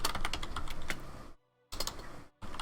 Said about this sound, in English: I never considered keyboard tapping.